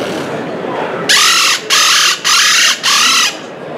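Four rapid bursty calls from a Twisted Psycho predator mouth call, imitating a woodpecker, each lasting about half a second with short gaps, loud and close over faint background hiss.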